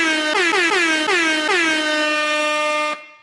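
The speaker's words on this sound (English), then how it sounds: "Normally we go with the air horn." Loud air horn sound effect celebrating a contest winner: a series of rapid blasts with falling pitch leading into a sustained, bright honk that cuts off sharply, close and alone.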